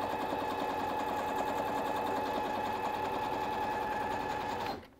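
A domestic sewing machine runs a seam at a steady, fast buzzing pace for several seconds up close, then stops abruptly.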